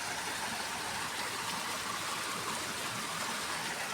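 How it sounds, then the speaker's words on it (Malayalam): Steady broadband rush of water flowing out through a channel from inside a hilltop fort, continuous and fairly loud with no talk. "ഇതിനുള്ളിൽ നിന്നുള്ള വെള്ളമൊഴുക്കാണിത്."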